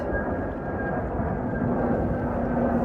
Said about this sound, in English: I escaped Bronte Bay to get away from the planes, yet the plane has followed me out here.